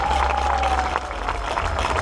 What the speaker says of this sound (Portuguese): Uma salva de palmas para a Casa do Povo de São Martinho